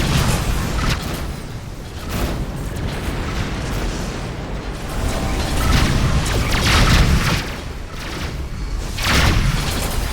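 Missiles slamming into a spaceship in a space combat video game, heard as a steady roar of deep booming blasts and rumbling impacts, with louder bursts swelling now and then over continuous low-end noise.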